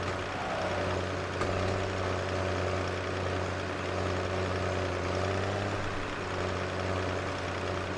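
A tractor engine in Farming Simulator 17 runs steadily with a low droning hum and a slight rise in pitch, an unbroken mechanical rev lasting several seconds with no talk.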